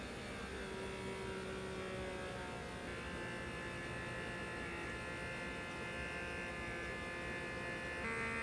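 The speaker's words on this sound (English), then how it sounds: "you hear how the whine of the motor is getting louder" A vacuum sealer motor whines continuously, with a faint rising tone near the end, close and fairly loud throughout.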